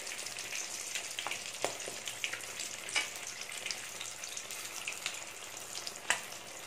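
Crab claws frying in hot oil for a crab 65 fry give off a steady crackling sizzle with scattered pops and spits, fairly soft and unbroken.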